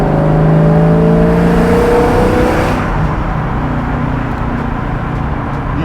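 A widebody pro-touring Foxbody Mustang with a Coyote V8 pulls hard in third gear toward about 4,000 rpm. Its loud, close engine note climbs steadily, then eases off partway through, with no talking.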